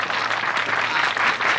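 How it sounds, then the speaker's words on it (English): Hypnosis show audience breaking into applause, a dense, even wash of clapping from a crowd, loud and steady for the whole moment. "Let's have a big round of applause."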